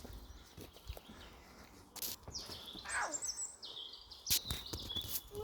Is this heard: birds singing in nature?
yes